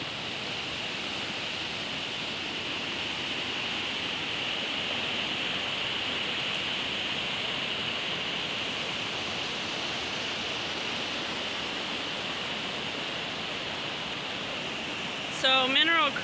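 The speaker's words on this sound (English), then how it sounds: "You look straight down the V and there's a river rushing by." River near a glacier-fed creek by an abandoned stamp mill, heard from above in a V-shaped canyon as a steady, broad rushing roar with no breaks and a brief clatter near the end.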